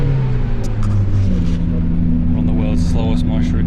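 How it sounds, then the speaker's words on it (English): Marshrutka minibus in Armenia crawling along at slow speed, steady low engine drone and road rumble inside the cabin, with people talking over it. "Slowest Marshrutka ride, doing about 20 miles an hour"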